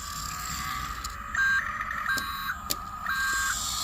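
A 1/64 scale RC forklift toy sounds its electronic reversing beeps: three short, clear, evenly spaced tones over a faint steady background hum.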